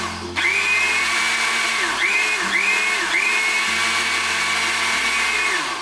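A kitchen blender motor runs loudly and steadily while blending banana, its whine rising and dipping in repeated surges as the load shifts, with no speech over it.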